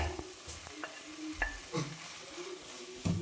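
Chapati pieces stirred into a thick tomato masala in a pan, with soft scraping strokes and a few clinking spoon knocks over a faint sizzle, close and fairly quiet.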